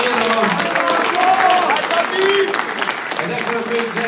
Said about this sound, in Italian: Però un grande applauso lo facciamo anche a Tommaso Carboniero